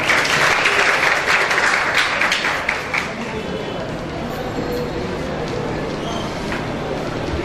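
A crowd at a cadet association reunion applauds, loud dense clapping at first that gradually thins and fades into quieter scattered claps, with some voices underneath.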